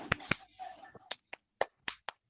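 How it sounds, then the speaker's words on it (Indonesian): Several sharp hand claps in a classroom, spaced irregularly and fairly close, with a brief murmur of voices between the first few. "Coba tepuk tangan untuk Putri."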